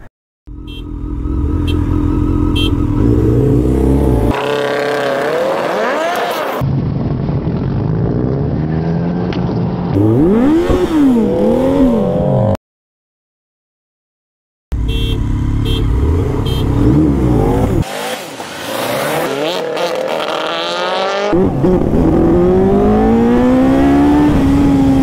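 A Subaru WRX STI car and a BMW K1300R motorcycle rev and accelerate hard from standstill through gears, rising pitch sweeps repeating, with a brief silent gap midway before another powerful run.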